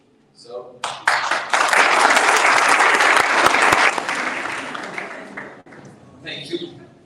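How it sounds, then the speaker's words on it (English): A conference audience bursts into loud, sustained applause for about three seconds, then it tapers off into scattered claps and a few voices. "let me just give a big round of applause to you"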